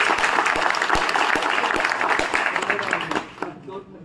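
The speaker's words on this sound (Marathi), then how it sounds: "जोरदार टाळ्या मुबारकसाठी." A school reunion crowd claps loudly and steadily, the applause thinning and fading out near the end.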